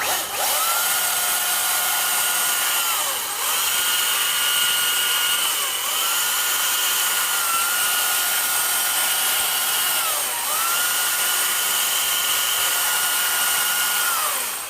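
A battery chainsaw carves wood in long continuous cuts, its high whine rising and dipping in four sustained passes, close and loud with no talk.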